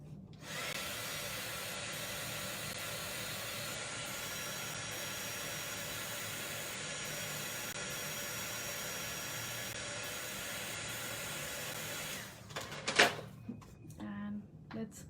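A handheld dryer blows steadily on freshly painted craft surfboard tags, a continuous broadband whoosh running for about twelve seconds before cutting off into brief handling clatter.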